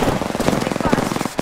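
Rapid gunfire from Apex Legends, a dense stream of evenly spaced shots close and loud throughout the short burst.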